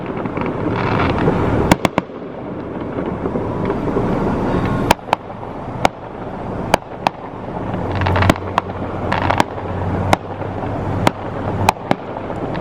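Fireworks show with screamers bursting in the open air, a steady rumble of launches and crackle broken by a dozen sharp, loud bangs spaced irregularly, with wind buffeting the microphone throughout.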